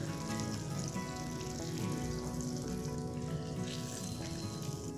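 Chicken pieces for crispy fried chicken bubble in hot oil with a faint, steady sizzle under a low background hum, with no speech.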